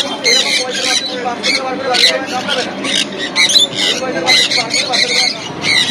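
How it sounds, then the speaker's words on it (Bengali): Sun conure parrots at a busy bird market, with shrill, repeated squawks in quick bursts over a dense background of human chatter and other bird calls, loud and close. "আচ্ছা দাদা কি আছে গো এটা? সানচিক তাই তো?"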